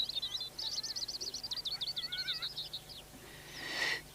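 A bright, rapid robin song in a British garden warbles in quick trills and whistles for a few seconds, fairly close, followed by a short rustling burst.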